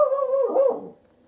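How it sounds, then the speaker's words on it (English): A dog barks once near a Roku streaming device setup, a single drawn-out bark that trails into a short whine, loud and close with no talk. "Doggy barking."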